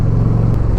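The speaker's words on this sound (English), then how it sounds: "Engine braking and decel" A 2025 Indian Roadmaster Dark Horse motorcycle with a Power Plus 112 engine engine-braking and decelerating, giving a steady low, smooth rumble that stays close and even throughout.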